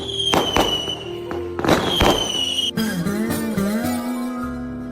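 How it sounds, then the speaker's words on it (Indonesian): Firecrackers burst in an anime scene, a rapid string of sharp cracks and thuds in two clustered bursts, then a tonal musical passage takes over. "Petasan pun juga dipasang di jidat tumpukan orang yang di atas."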